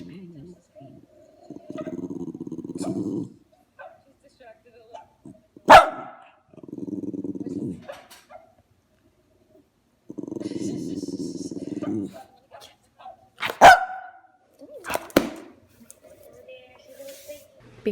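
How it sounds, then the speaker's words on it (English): A dog barks in short loud bursts, repeated in several clusters, with a couple of sharp louder sounds between them and quieter noise in the gaps. "My mom sent me a clip of Maddie barking at herself in the vlog"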